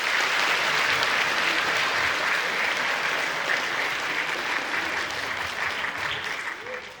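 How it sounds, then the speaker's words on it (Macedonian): Sustained audience applause at a children's song festival, steady dense clapping filling the hall for about seven seconds and easing slightly toward the end. "Уште еднаш аплауз за Драгана."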